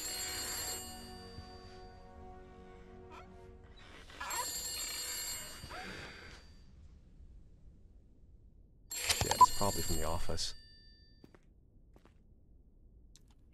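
An old-style telephone rings three times in the horror game The Beast Inside, each ring a bright, steady trill of a second or two, spaced several seconds apart over a quiet, low background.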